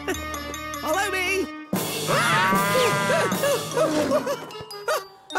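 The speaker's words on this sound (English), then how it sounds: "Nice cow. Good cow." A cow in a children's cartoon moos in drawn-out, wavering calls mixed with jingling bell-like tinkles and bright music, while cartoon characters talk over parts of it.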